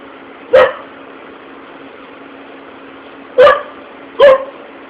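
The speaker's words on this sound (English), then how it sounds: "That's probably why Ginger's out there barking away." Dog barking outdoors at a distance, three sharp single barks, one alone and then two close together a few seconds later, over a steady low background hum.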